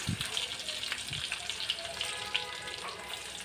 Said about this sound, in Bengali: এই যে রসুন কুচি দিয়ে দিলাম